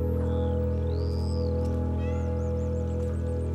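A cat meows in the video game Stray, making several short rising and falling calls in quick succession. The meows sit over a steady, droning background hum of game ambience.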